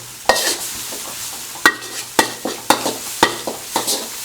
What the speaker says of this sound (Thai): หัวหอมนะครับ หอมใหญ่ใส่ลงไปผัดให้หอมนะฮะ